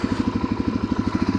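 Motorcycle engine running at a light throttle with the clutch still partly engaged, a steady close chugging pulse throbbing at an even rhythm with no talk over it.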